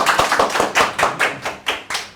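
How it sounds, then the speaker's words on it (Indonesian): A few people clap in a loose, uneven rhythm, about ten close, sharp claps over two seconds, with no talking. "Oh, tepuk tangan."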